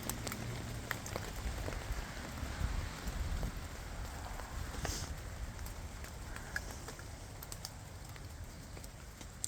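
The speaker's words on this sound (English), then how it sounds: "It's tipping it down with rain" Heavy rain pours down steadily at a fuel station stealth camp, a dense continuous hiss and patter with no pauses, fairly close and evenly loud throughout with no voices.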